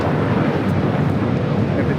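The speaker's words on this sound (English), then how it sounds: "Canada 787 Dreamliner about to touch down, 25 left." An Air Canada Boeing 787 Dreamliner in minty fresh livery touches down on runway 25 left at Los Angeles airport, a steady broadband jet roar with wind noise, and a voice talks over it throughout.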